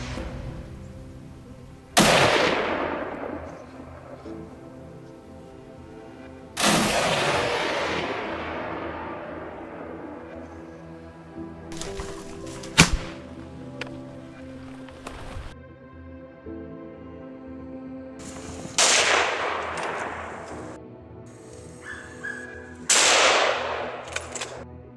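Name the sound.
gunshots at wild boars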